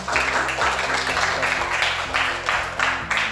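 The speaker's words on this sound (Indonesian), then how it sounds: "beri aplaus untuk kelompok 6" Audience applause for group 6 at the end of a student presentation on a soil moisture and DHT11 smart sensor, a steady patter of clapping from a modest crowd filling the room, fairly close.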